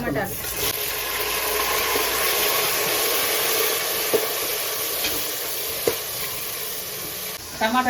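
Onions and tomatoes fry in hot oil for Ambur chicken biryani, giving a steady, loud sizzle with a couple of brief clacks from stirring.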